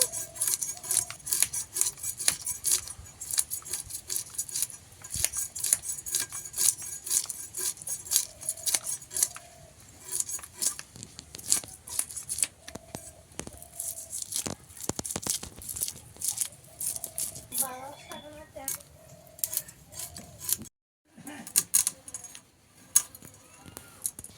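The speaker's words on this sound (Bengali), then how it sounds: "মাছটাকে প্রথমে কেটে নেব" A knife cuts and scrapes scales from a hilsa fish in a kitchen, making rapid, crisp scraping and tearing strokes close up, with occasional metallic clinks and brief background tones.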